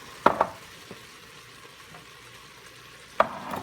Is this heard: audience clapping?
no